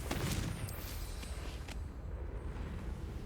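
The fiery blasting spell Confringo is cast in the Hogwarts Legacy video game, giving a few quick bursting cracks and whooshes over a constant rumbling roar.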